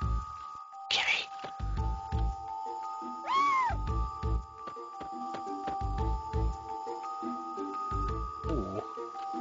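A cat meows in the video game Chrono Cross, one clear rising-and-falling meow standing out above steady looping game music with soft rhythmic beats.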